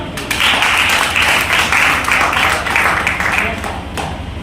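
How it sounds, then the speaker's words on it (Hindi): A training-session audience claps in a strong, steady burst, many hands together filling the room at close range before easing off near the end. "इसके लिए भी एक बार ताली बजनी चाहिए।"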